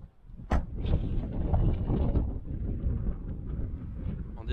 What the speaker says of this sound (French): Bon, déjà, il y a toujours du vent, mais un peu moins, mais un peu plus dans les fonds.